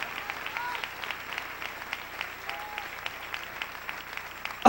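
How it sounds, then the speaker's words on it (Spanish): A church congregation at an evening service applauds in praise, steady, moderately distant clapping across the whole stretch with a few sharper individual claps standing out. "Dele un aplauso al Señor en esta linda y preciosa"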